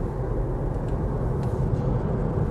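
Steady low rumble of road and tire noise inside the cabin of a 2022 Kia Niro EV 64 kWh in Active Plus trim while driving, continuous and even with no voices.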